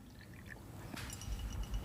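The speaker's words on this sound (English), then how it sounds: "I'm going to put in there some distilled water, pure water." Distilled water poured into a glass beaker fitted with clean electrodes, a soft, close trickle and splash that grows fuller over a couple of seconds.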